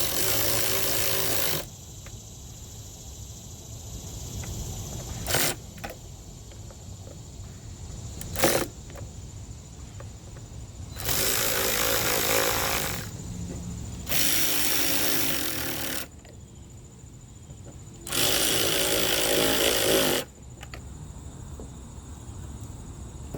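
Screws being tightened on the blower tube of a Stihl BR600 backpack blower with a power tool, several separate bursts of whirring over a constant hiss of background noise, fairly faint, no talking.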